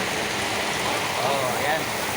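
Flood water rushes steadily through a market, a continuous loud wash of flowing water that fills the whole clip.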